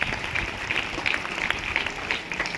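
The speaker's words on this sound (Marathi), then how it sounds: "तिचं सुद्धा सगळ्यांनी जोरदार टाळ्या वाजून स्वागत करायचं" An audience at a school scholarship award ceremony claps briefly with scattered, moderately loud applause welcoming a student.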